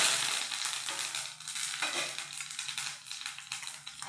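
Curry leaves dropped into hot coconut oil with cinnamon, cloves, cardamom and dried red chillies, sizzling and crackling loudly and steadily throughout, close up and with no talk.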